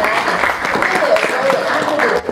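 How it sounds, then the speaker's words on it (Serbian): An audience at a literary award ceremony claps steadily, a dense, even wash of applause in a hall, with a voice audible over it. "Pozdravimo još jednim aplauzom, molim."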